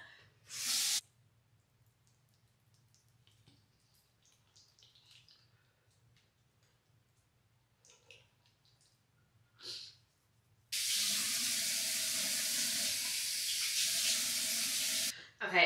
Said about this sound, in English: And then it says to slowly add water.